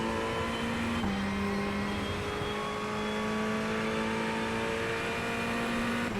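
A Ferrari 488 GT3 Evo race car engine held at full throttle in the iRacing simulator at Interlagos, a steady loud drone with one brief upshift dip and rising pitch, no voices.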